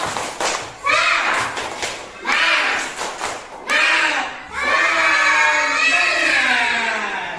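A group of children claps and chants together in a rhythmic pattern, with bursts of rapid clapping and voices rising into a sustained shout at the end.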